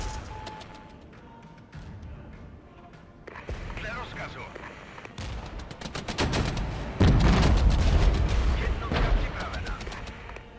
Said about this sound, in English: Let's do some heavy artillery here. And we'll do some heavy artillery back here.